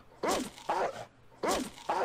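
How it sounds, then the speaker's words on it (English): The dog companion's bark in the Fallout video game, two pairs of short, sharp barks separated by a brief pause, clear and close with no talking. "get used to that sound effect while you have dog meat in your party"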